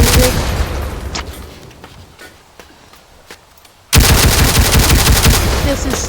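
Heavy gunfire and explosions tear apart a building in the video game Teardown, with dense rapid blasts, a quieter stretch of scattered shots, then a sudden loud barrage. A voice is heard faintly underneath.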